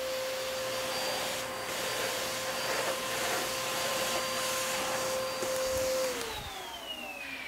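A vacuum cleaner runs with a steady high-pitched whine and airy rush, close and continuous, then its pitch drops as it winds down near the end.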